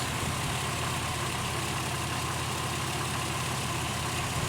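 Steady close idle of a Pontiac Aztek engine with a rich running condition, waiting to settle during a cylinder power balance test; an even, continuous rumble with no voices over it.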